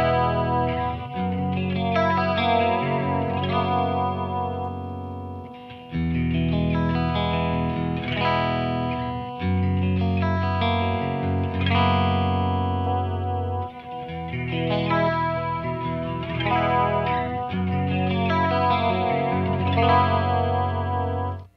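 Clean electric guitar played through an MXR Wylde Audio chorus pedal, with continuous chords and picked notes carrying a shimmering, warbling chorus, loud and close, broken by one brief pause before the playing resumes.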